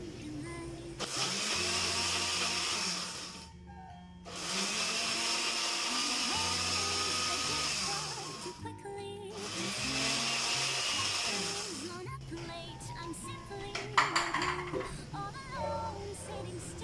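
An electric blender whirring through boiled beef in two loud sustained bursts with short pauses between, followed by clattering and handling of the jar.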